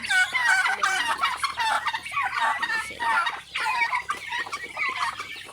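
Caged turkeys and chickens cluck and gobble without pause, a dense, close chorus of overlapping calls from a crowded backyard pen in the Philippine countryside.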